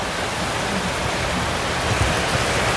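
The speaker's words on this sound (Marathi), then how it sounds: "आणि नदीचा प्रवाह बघा तुम्ही," A river flowing fast beneath a bridge near Gadeshwar Dam in heavy rain, a loud, even, broadband rush that fills the whole clip without pause.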